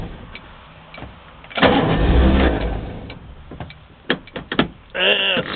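A small boat outboard motor, choke engaged, cranks and catches, a rough burst of engine noise rising from rest, then sputters and fires again in short uneven pulses before settling into a steady idle near the end.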